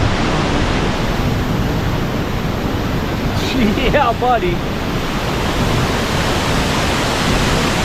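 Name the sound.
flooded Khlong Lan waterfall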